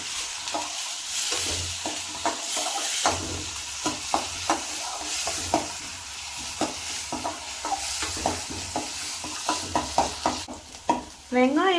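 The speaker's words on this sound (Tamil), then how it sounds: "வெங்காயம் கொஞ்சம் நல்லா வதங்கணும்." Onions sizzle with salt in a hot pan while a utensil scrapes and stirs them in a steady run of sharp, close clicks over a constant frying hiss.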